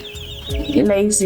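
Curious broiler chickens cluck in a short, close burst, a few soft overlapping calls rising to a louder squawk.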